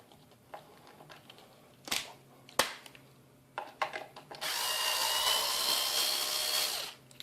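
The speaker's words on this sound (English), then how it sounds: "I will use the same holes to drill straight through into the plywood panel that I just put in there." A power drill boring straight through into a plywood panel in a garage tool cabinet build: a few scattered knocks and handling clicks, then a loud sustained whirring drill run of about three seconds, close and alone.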